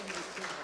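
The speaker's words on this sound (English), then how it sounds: "Let's give our whole music team a round of applause" Church congregation at a live-streamed service applauds the music team, a brief steady patter of clapping with a faint murmur underneath.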